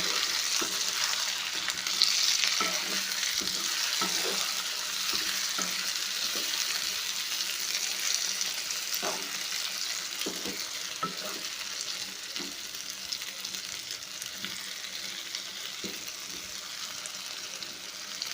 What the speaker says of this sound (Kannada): ಇಷ್ಟೇ ಎಣ್ಣೆ ಒಳಗಡೆ ಸ್ವಲ್ಪ ಬೇಯಬೇಕು ಈಗ ನೋಡಿರಿ ಎರಡು ನಿಮಿಷ ಬಿಟ್ಟಿದ್ದೆ ಇವಾಗ ಸ್ವಲ್ಪ ತಿರುಗಾಡ್ಕೊಳ್ಳೋಣ